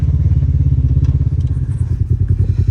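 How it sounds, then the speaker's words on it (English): Polaris RZR XP 1000 engine fitted with a Trinity Stage 5 exhaust and a Stage 2 tune idles loud and close, a deep, rapid, lumpy throb that holds steady throughout. "first official test drive with this Trinity Stage 5 exhaust"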